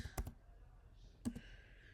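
A few computer keyboard keystrokes typing a router interface configuration command, two short clusters of quiet clicks close by with a pause between them.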